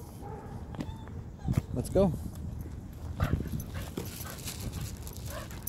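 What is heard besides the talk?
overstimulated dog whining at a dog park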